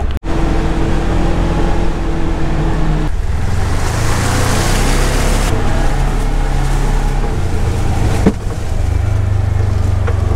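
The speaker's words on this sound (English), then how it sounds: "I doubt this little Polaris Ranger's gonna be able to pull his truck out" A Polaris Ranger UTV strains to pull a stuck truck out, its engine droning loud and close, with throttle surges and a rougher roar midway, alone without talk.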